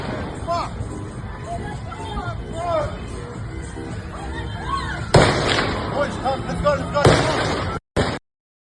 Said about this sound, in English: they're opening fire on these festival attendees